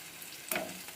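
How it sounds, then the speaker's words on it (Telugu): Cumin, mustard seeds, chana dal, urad dal and a dried red chili temper in hot oil with garlic. A faint sizzle swells into one brief crackling burst. "కొంచెం లైట్ బ్రౌన్ కలర్ వచ్చే వరకు ఇలా వేగనిద్దాము"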